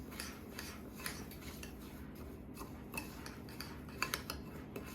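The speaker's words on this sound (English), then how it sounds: "the 4 tablespoons of melted butter, which I'm going to add a cup of gluten-free breadcrumbs to. And I'm going to stir that around" A spoon scrapes and taps in a bowl as gluten-free breadcrumbs are stirred into melted butter, giving light irregular clinks and scratches at close range with no talking.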